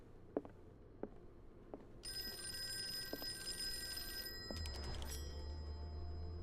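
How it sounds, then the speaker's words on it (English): A telephone rings in the Call of Cthulhu video game: a bright, steady electronic bell tone that starts a couple of seconds in and sustains, over faint ambient game noise and a few soft knocks before it. "I gotta wait for the phone to ring."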